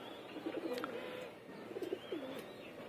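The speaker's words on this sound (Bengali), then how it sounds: "আল্লাহর কাছে শুক্রিয়া যে কবুতরগুলো এক এক আইসা পড়তেছে" Pigeons coo softly nearby in a couple of low, rolling phrases against a quiet outdoor background, with no talking.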